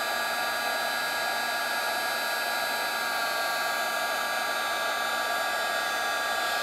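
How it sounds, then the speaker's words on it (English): A heat tool melting embossing powder on a stamped paper image gives off a constant, close whooshing fan roar with a steady high whine, unbroken and with no voices. "Next, I'm going to emboss this image using the heat tool."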